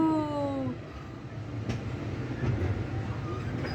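Interior of a train running at night, with a steady low rumble of the carriage throughout and faint rail noise, a brief whistling tone at the start, no speech.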